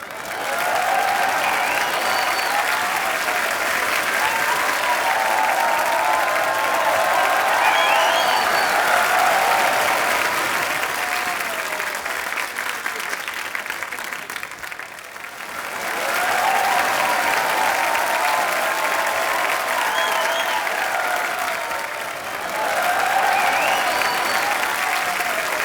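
A studio audience at The Kapil Sharma Show gives sustained applause welcoming Ileana D'Cruz. The thick, loud clapping dips briefly midway, then swells again with faint cheers layered over it.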